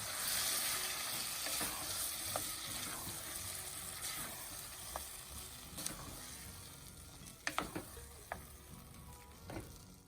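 Ranch style beans simmer in a pot as a steady soft sizzling bubble, with a few sharp clinks and taps near the end as a utensil touches the pot.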